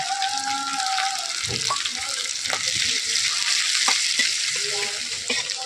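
Chopped green chillies and potol bharta ingredients fry in hot oil, a steady broadband sizzle with intermittent scrapes and knocks of stirring, close and continuous throughout.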